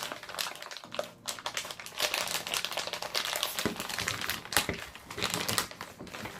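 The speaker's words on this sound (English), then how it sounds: "No fancy scissors here, it's just rip this sucker open, get all the parts out." Plastic packaging of a WPL two-speed RC gearbox and 370 motor parts torn open by hand, a steady run of close crinkling and ripping that continues throughout with no talking.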